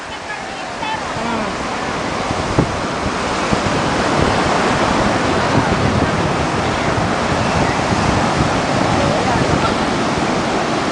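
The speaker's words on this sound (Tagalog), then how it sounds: "Lalaki ng alon." Big ocean waves crash and roar continuously at Aparri, a dense, loud surf wash mixed with wind buffeting the microphone, steady for the whole stretch.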